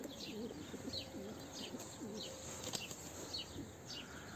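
Soft cooing from a Turkish tumbler pigeon repeats in low rolling phrases, with faint chirps and rustling around it at modest distance.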